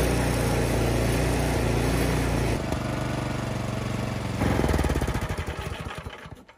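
A Craftsman Select 26 snowblower engine runs loud and close after being pull-started, a steady rough mechanical drone that shifts in pitch partway through, then sputters and fades out at the end.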